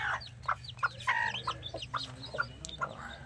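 Small serama chickens cluck in quick, scattered bursts close by, with a brooding hen and two chicks among them and a faint low background hum.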